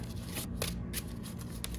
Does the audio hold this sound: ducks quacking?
no